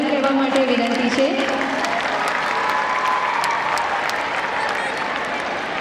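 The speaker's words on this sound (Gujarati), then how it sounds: "આ ડોક્યુમેન્ટરી નિહાળીને સૌને તાળીઓના ગળગળાટથી અમારા મંડળને વધાર કહેવા માટે વિનંતી છે." Audience at a school annual day applauds after a documentary screening, a dense close burst of clapping that runs the full few seconds, with a voice speaking over the first moment.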